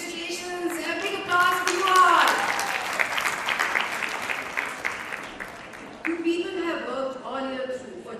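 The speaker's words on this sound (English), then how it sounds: "Congratulations and a big applause to you all." Audience applause at an Inner Wheel Club district assembly: a burst of clapping from a crowd swells over talk, holds steady for several seconds, then fades as voices resume.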